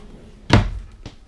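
A kitchen drawer or cupboard in a KZ Venom fifth-wheel toy hauler RV shuts with one solid close-range thunk, then gives a softer knock a half second later; no talking.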